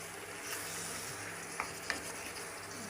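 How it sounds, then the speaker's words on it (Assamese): Potatoes and spices are stirred in a hot pan during meat curry cooking, a steady close sizzle broken by a couple of sharp scrapes and clinks of the spoon. "ঢাকনিটো খুলি লৰাই দিওঁ অলপ"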